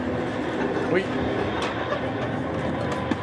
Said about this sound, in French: On y va en tramway alors?